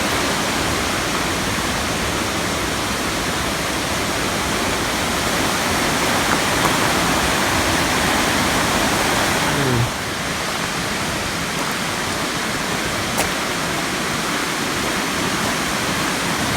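A river flows steadily beside a hiking trail, a constant broadband rush that stays loud and even throughout, with no voices over it.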